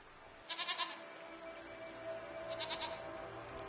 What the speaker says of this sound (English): Are they simply goats?